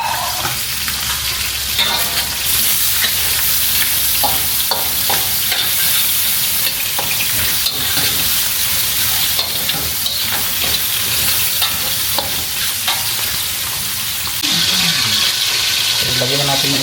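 Onions and chopped tomatoes sizzle steadily in a hot pan for Filipino ginisang upo, with occasional stirring scrapes and a voice speaking over the frying.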